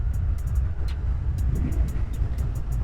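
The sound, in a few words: Honda Rebel 125 motorcycle engine running after choke off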